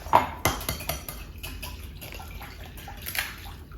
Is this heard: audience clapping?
no